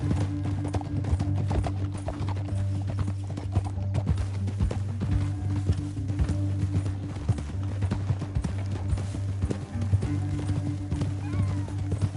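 Horse hooves clip-clop steadily in the Red Dead Redemption 2 video game, a regular, close trotting rhythm over a low continuous game drone, with occasional faint neighs and no talk.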